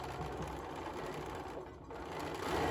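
A sewing machine runs continuously, stitching quilt block pieces with a steady close mechanical whir that dips briefly and resumes, heard alone without talk.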